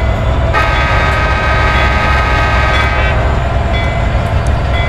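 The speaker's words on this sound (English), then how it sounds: "We're just going to do a warning horn." A CSX GE AC6000CW locomotive in Train Simulator 2019 sounds a loud sustained warning horn that blares for about two and a half seconds over the constant heavy rumble of the moving train.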